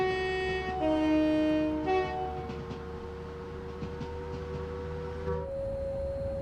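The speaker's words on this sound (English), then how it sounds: "we can accelerate up to 50, so let's do that, shall we? Whilst we admire the Pendolino" A Class 390 Pendolino electric train accelerates in the Train Sim World 5 video game on the Euston to Milton Keynes line, giving a steady rising motor whine with tonal hum and rumble throughout and no talk.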